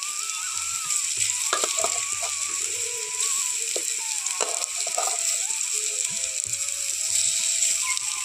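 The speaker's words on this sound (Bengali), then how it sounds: "আমি অল্প তেলের মধ্যে এটা ভেজে নিচ্ছি" Gima shaak bora, fritters made with gima greens, frying in a little oil: a steady, bright hiss of sizzling with occasional scraping and stirring clicks from the pan, without any talk.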